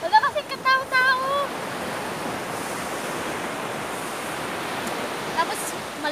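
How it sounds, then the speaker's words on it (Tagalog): Ocean waves break on an empty beach, a continuous loud wash of surf and wind noise, with a brief burst of voice at the start. "Tapos, medyo malaki-laki pa yung alon."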